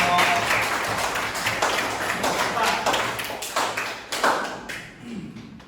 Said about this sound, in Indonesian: kita berikan tepuk tangan untuk kelompok 4.